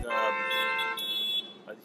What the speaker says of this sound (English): The beeping in the background.